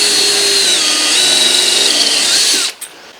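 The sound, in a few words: power drill drilling a pilot hole in garage wall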